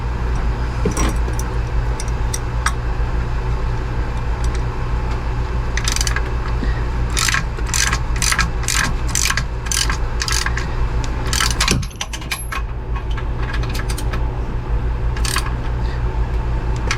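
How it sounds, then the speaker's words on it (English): A wrench ratchets in quick bursts while tightening the top alternator bolt on a 454 big block engine, sharp clicking runs over a constant low hum, close and loud, with no talking. "We need to do a final tighten on the top bolt."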